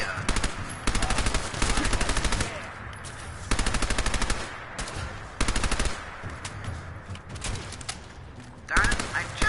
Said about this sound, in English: I have ammo for this gun.